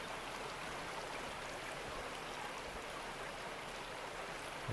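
Water rushing steadily while gold panning, a continuous broadband splash and hiss that holds at a constant, moderate level throughout, with no voices.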